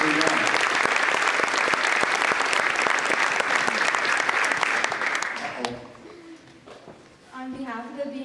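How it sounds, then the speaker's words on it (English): Dense, steady applause fills a Christmas symphonic band concert hall after saxophone and band soloists perform, then fades as a voice begins speaking to the audience. "So let's give them a round of applause."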